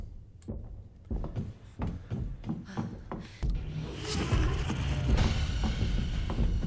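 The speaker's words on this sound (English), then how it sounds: "So that sound you heard there is actually the Mr. X protecting you." Heavy, irregular thuds and mechanical clunks come from Mr. X walking in the Resident Evil 2 Remake video game, muffled and somewhat distant, building into a dense rumbling wash.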